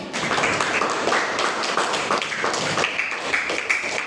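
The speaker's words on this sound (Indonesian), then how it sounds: "Iya, tepuk tangan." A classroom of students applauds a group presentation, a steady, fairly quiet wash of overlapping hand claps lasting throughout.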